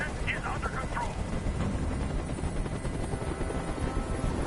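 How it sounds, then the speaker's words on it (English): Helicopter hovering overhead in the video game Detroit: Become Human, a steady loud rotor roar filling the whole stretch, with faint voices murmuring underneath. "Tell that helicopter to get out of here."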